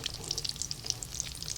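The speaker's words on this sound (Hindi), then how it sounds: "देखिए कितनी जल्दी ये फ्राई हो गए हैं" Chicken and potato kababs frying in hot oil, giving a quiet, steady crackle of fine pops for a brief moment with no voices.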